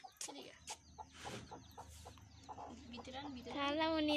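A hen with newly hatched chicks clucking in short, repeated calls close by, with scattered background noise and a rising high chirping near the end.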